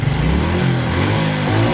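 A Suzuki Smash motorcycle engine, which hesitates on the throttle as if starved of fuel, revs briefly and nearby, its note wavering up and down, with no talking.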